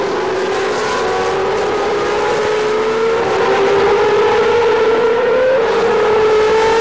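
A1 Grand Prix race cars at the Shanghai circuit roar past in a loud, sustained engine drone with shifting pitch, several cars blending together continuously without any talk.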